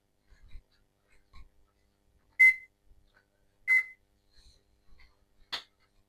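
A kitchen oven sounds short electronic beeps as it is set to preheat, three clear separate tones spaced about a second apart, with faint handling clicks between them in a quiet room.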